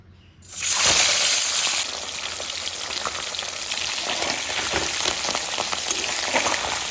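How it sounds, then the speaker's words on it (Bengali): Fish sizzles loudly as it drops into hot mustard oil in a pan, a sudden burst of crackling frying that settles into a steady, dense sizzle. "তেল গরম হয়ে গেছে, এবারে আমরা মাছগুলো ভেজে নেব।"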